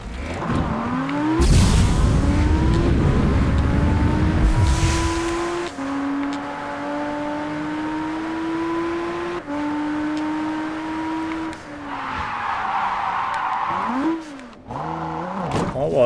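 A powerful car engine revs loudly in the racing game Japanese Drift Master, its pitch climbing steadily through several gear shifts, with brief drops and a quick rev near the end, heard alone and close.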